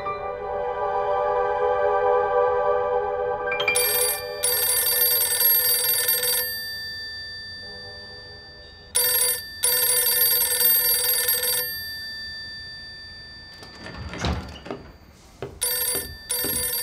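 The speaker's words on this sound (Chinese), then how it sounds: "如果这个电话是李墨泉打的，就说明他现在还在总部。" Telephone ringing in a tense spy-drama scene, several long bursts of an electronic ring separated by pauses, loud and close, with no talk over it.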